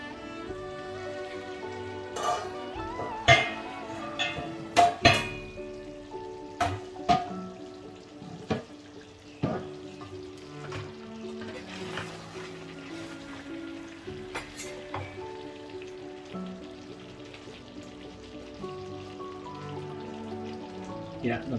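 Lamb chops sizzling gently in a pan on a low flame, with a faint continuous crackle and scattered pops and clicks, under background music.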